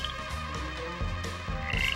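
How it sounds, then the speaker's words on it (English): A chorus of male frogs sings near a pond in spring, with overlapping croaks and trills, moderately quiet and without voices. "A group of singing male frogs can be very loud, so listen for them when you're near a pond this spring."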